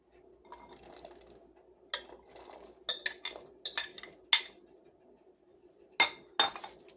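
Sliced carrots clatter into a soup pot for Yankee bean soup, a series of bright clinks and knocks against metal in uneven bursts, separated by quiet pauses.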